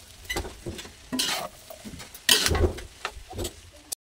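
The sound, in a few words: stir-frying chow fan rice with fried garlic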